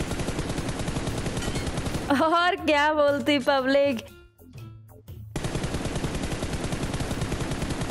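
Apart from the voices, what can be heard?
gunfire in the video game BGMI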